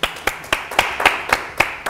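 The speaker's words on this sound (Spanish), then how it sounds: "Cristian de la Cortina, un aplauso." A television studio audience claps for guest Cristian de la Cortina, steady rhythmic claps about four per second, close and bright, with no talking over them.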